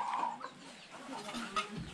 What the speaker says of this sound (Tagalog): Uy, may ibon, oh.